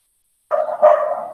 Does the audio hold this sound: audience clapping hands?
no